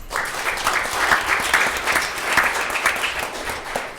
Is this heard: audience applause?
yes